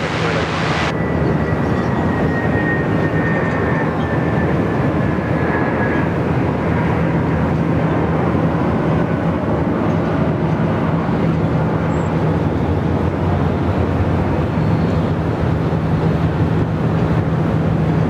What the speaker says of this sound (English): here comes our thumbnail aircraft for the day, the WAMOS A330-200